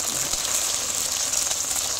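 A Thai omelette of two eggs with about fifteen bird's eye chilies frying in boiling oil gives a steady, close, bright hiss and sizzle that holds evenly throughout, with no talking.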